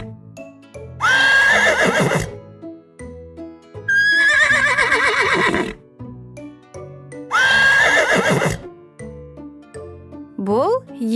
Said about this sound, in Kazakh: Жылқы и-го-го-го-го, и-го-го-го-го дейді